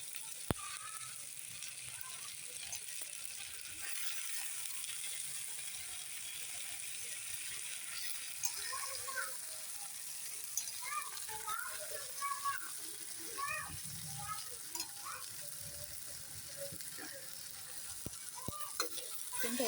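Washed prawns frying with curry leaves in a pan, a faint steady sizzle with scattered crackles and pops, quiet throughout, while a voice talks intermittently over it.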